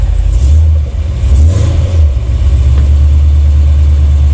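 A 1982 Chevy C30 square-body ramp truck with Flowmaster exhaust runs after a cold start, a loud, close, low exhaust rumble with a brief rev early on, then settling into a steady idle.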